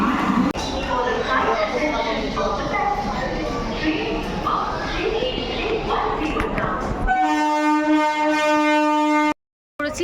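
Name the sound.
train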